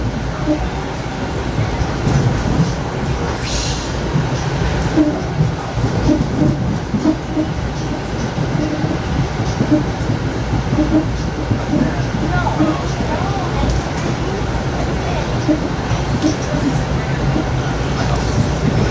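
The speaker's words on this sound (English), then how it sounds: "We're going a lot faster than the train we already rode." A Metro-North New Haven Line Budd M2 commuter train rides at speed, a loud steady interior rumble with rhythmic wheel clacks over rail joints, while passengers talk throughout.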